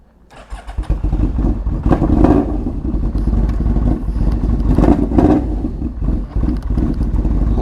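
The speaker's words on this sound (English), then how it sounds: "This does have a 4-into-1 voodoo exhaust, so she sounds mean, man." A Yamaha V-Max motorcycle with a 4-into-1 Voodoo exhaust starts up and settles into a loud, steady idle, its deep engine rumble holding close and constant, with brief throttle blips lifting the note.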